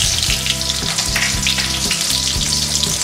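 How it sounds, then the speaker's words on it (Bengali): Chopped onion fries in about three tablespoons of hot oil, with a loud, dense, continuous sizzle and a steady low rumble from start to finish. "তেল গরম হয়ে এসেছে, এবার তেলের মধ্যে পেঁয়াজ কুচি,"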